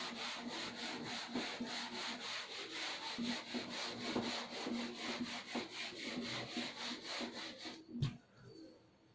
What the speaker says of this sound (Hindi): मैं इसे रब कर देती हूँ